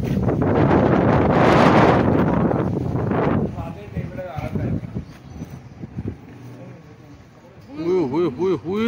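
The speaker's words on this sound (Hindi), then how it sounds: "वो तेज हवा यार" Strong wind gusts roar across the microphone during a morning kite-fighting session at Lahore Basant, loud and rushing for the first few seconds, then easing while people talk and shout over it.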